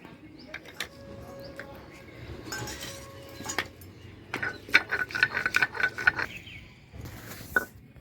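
Ginger, garlic and green chili are ground into a paste for a Bhola fish curry, with irregular scraping, rubbing and clinking strokes close by that grow busier toward the end.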